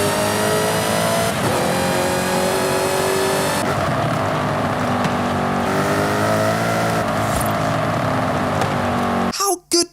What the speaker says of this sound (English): Now, one of the many things the Forza developers did a massive overhaul on were the car sounds.